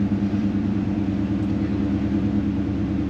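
A 1973 Chevy C10 squarebody pickup truck cruises along with a steady, low engine rumble and road noise, fairly close and continuous with no talking.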